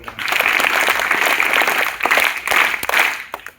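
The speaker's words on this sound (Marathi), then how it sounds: "त्या दोघींसाठी जोरदार टाळ्या वाजवा." An audience at a Zilla Parishad school in Dongargaon claps for two students, loud, close applause that swells and fades over a few seconds.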